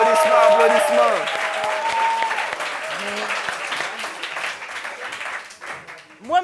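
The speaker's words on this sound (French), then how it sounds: "Applaudissements pour elle, s'il vous plaît." An audience at a meeting applauds a guest with dense clapping that fades slowly, while voices call out and talk over it.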